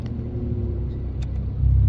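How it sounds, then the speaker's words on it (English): Porsche 911 Carrera T engine in sport drive mode, a steady low rumble close by that swells louder near the end as the engine note changes. "I turn the dial, sport. You hear the engine change?"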